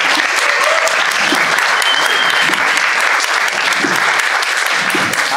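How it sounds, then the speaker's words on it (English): Steady applause from a workshop audience for the organizer, a dense continuous clapping from a sizeable group filling the room at even loudness throughout. "we should have a round of applause for somebody else"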